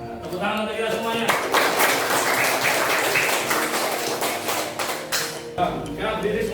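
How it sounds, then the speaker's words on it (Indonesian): Classroom of students clapping together in an Islamic religious education lesson, a dense, steady burst of many hands lasting several seconds before tapering off, with children's voices mixed in throughout. "Tepuk tangan untuk kita semuanya."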